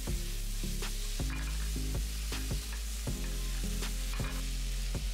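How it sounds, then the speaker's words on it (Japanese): Cabbage and green peppers stir-fry in a hot pan, a continuous sizzle broken by regular scraping strokes of a spatula, close and fairly quiet. "キャベツとピーマンを加えてしんなりするまで炒めていきます。"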